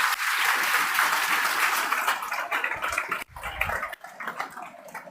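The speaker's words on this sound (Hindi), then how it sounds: "एक बार महात्मा गांधी के लिए जोरदार तालियां" Audience in a classroom lecture on the Indian Constitution applauds Mahatma Gandhi, a burst of loud, dense clapping that thins slightly toward the end with a brief dip near the middle.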